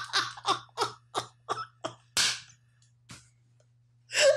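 A quick series of short, sharp coughs, followed by a louder, harsher cough and a final burst after a brief pause.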